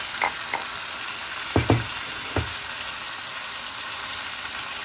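Dry Fiji-style goat curry with garlic, ginger and chilli is stirred in a pot: a few soft scraping strokes, then a quick pair and one more, over a faint steady sizzle, with no talking.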